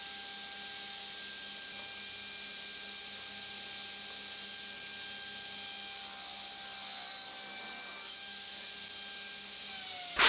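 Wood pieces for a fiddleback maple box being sawn level in a workshop, a steady continuous cutting drone with a sustained whine, fairly faint and unbroken, ending in a brief louder knock.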